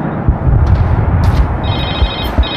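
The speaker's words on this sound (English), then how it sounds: "Cell phone." A cell phone rings during a combat mission in the shooter game Medal of Honor, its repeating electronic trill cutting through loud, rumbling battlefield noise and scattered thuds.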